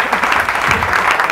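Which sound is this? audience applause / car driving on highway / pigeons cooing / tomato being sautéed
audience applause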